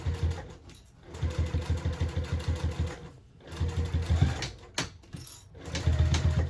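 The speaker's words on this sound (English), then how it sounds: "I'm at the top of the zipper pocket there, so I'm back stitching over that too" A sewing machine back stitches across the top of a zipper pocket on a tote bag, running in rapid mechanical bursts that stop and restart several times, loud and close, with no talking.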